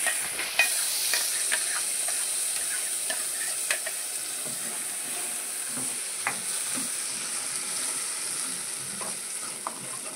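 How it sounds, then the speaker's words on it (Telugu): Tempering spices for chutney hiss steadily in hot oil close by, with scattered crackles and spoon taps throughout and no voices. "చట్నీలో పోపు పెడుతుంది."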